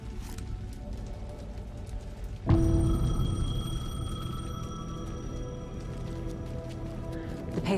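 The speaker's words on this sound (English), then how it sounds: "The payphone was ringing." A payphone in the game Alan Wake starts ringing suddenly, a sustained bright electronic tone that rises over a low ambient rumble and holds for several seconds.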